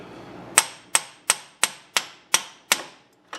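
A hammer taps on a pickle fork wedged under a car's tie rod end, seven sharp metallic strikes at an even pace close by, followed by a lighter eighth tap.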